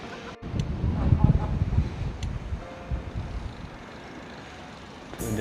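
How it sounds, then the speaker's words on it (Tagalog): Strong outdoor wind buffets the microphone with a steady low rumble and roar. It swells loudest early on, then eases to a softer, continuous rush near the end. "Malakas nga lang ang hangin."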